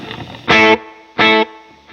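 Two punchy, distorted electric guitar hits through a slapback delay with the blend turned up, each ending abruptly, with a faint trailing echo at the close.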